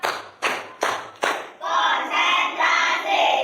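Four sharp, evenly spaced group hand claps in a classroom clap-focus game, followed by a burst of cheering or shouting voices from the group, fairly close and loud.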